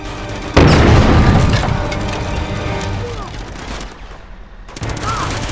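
Heavy gunfire aimed at a tank in Uncharted 2, opening with a loud booming volley that stays as dense, crackling shooting and impacts and then fades. A second burst starts near the end.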